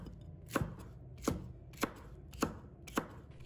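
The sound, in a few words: chopping vegetable strips into small pieces with a knife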